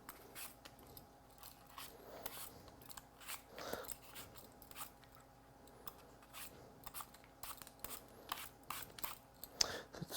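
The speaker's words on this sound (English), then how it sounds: "So this is just your basic carrot peeler. We're just cruising down the sides." Apple being peeled with a basic carrot peeler, a series of quiet, close scraping strokes with irregular crisp rasps, faint overall.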